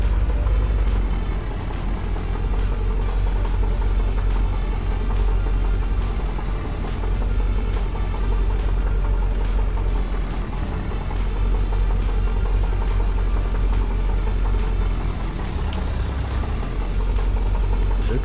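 Truck and farm machinery engines in Landwirtschafts-Simulator 19, a continuous low rumbling drone with steady mid-range engine hum, loud and unchanging throughout with no talk over it.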